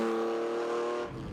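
A Ferrari Testarossa or Lamborghini Countach engine runs at low revs with a rough, harmonic, tractor-like drone, close and loud. It holds steady before softening abruptly near the end.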